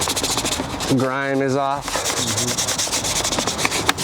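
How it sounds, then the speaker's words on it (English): Brush scrubbing across car interior trim during a full interior detail, a steady rough rubbing texture running throughout, briefly interrupted while a voice speaks over it near the start. "Gonna come in, just gonna scrub everything down real quick. All the trim."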